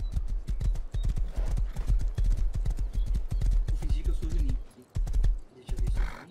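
Horse hooves clip-clopping in a multiplayer video game, a rapid, loud rhythmic gallop of sharp thuds close by that briefly breaks off and resumes, with players talking over it.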